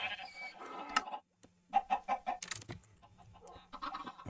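A chicken in the Minecraft Skyblock video game clucks in a quick run of short, bright calls, with a few louder game sound effects around it and no talking.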